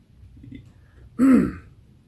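One short, throaty clearing of the throat, close and fairly loud, rises out of near silence and fades quickly.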